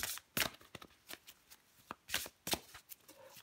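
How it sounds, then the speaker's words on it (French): Tarot cards being handled and drawn from a deck, giving a series of crisp, close card snaps and riffles in quick irregular bursts over near silence. "je prends encore une carte pour vous"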